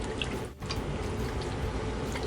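Hands agitating a dress soaking in water, producing close, continuous sloshing and splashing with a brief pause partway through.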